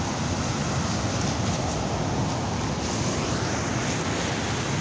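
Continuous roar of ocean surf with wind noise on the beachfront at Itaparica, Vila Velha, Brazil, loud and unbroken throughout.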